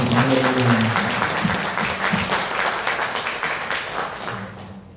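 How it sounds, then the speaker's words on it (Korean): An audience at a church prayer gathering claps for the worship team, a lively burst of applause that opens loud alongside a few voices and gradually tapers off toward the end. "은혜롭게 찬양 인도해 주신 우리 찬양팀들에게 박수를 한번 축하드립니다"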